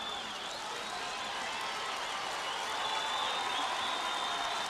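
A high school football state championship crowd's cheering section applauding in a stadium, a steady wash of clapping and crowd noise that swells slightly toward the end.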